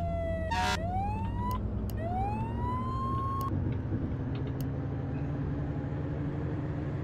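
Fire truck siren from the Flashing Lights video game, with rising wails and short horn-like blasts over a steady engine rumble, loud and close, no talking.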